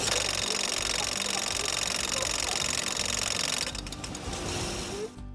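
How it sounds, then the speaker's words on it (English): Loud, rapid mechanical knocking from a Buick engine, hammering steadily like a jackhammer, easing slightly near the end. "my engine sounds like a jackhammer"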